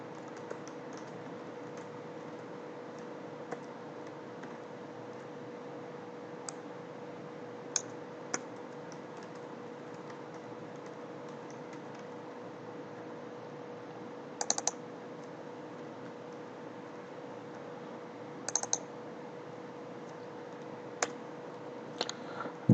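Keys are tapped on a computer keyboard while lines of Selenium code are written. Sparse, faint clicks and occasional sharper keystrokes stand out over a steady background hum, with no talking.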